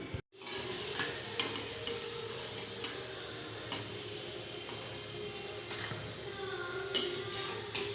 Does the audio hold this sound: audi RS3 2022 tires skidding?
no